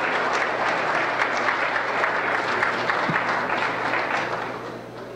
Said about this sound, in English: Let's give a big round of applause to Assemblymember John Dutra.